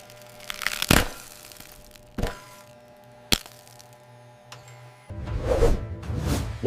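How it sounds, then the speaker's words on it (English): Crisp crunches and cracks of potato chips in a factory setting, several sharp isolated snaps separated by pauses over a steady low machine hum, then a denser burst of crunching at the end. "They even measure the volume of the crunch."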